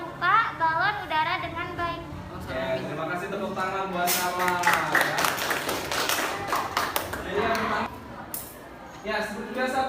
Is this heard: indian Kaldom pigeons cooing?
no